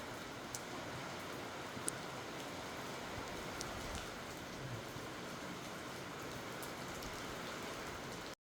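Heavy rain pours onto a plastic sheet in a dense, steady patter, with occasional louder drops popping out of the continuous hiss.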